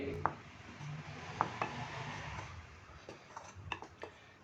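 Sugar and salt are mixed together in a bowl with a spoon, faint scraping and stirring broken by a few sharp clicks and taps of the utensil against the bowl, quiet and close.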